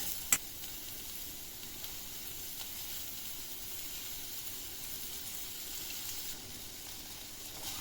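Coconut oil sizzles in a pan as chutney is sautéed, a faint, steady hiss with a single sharp click near the start and no voices.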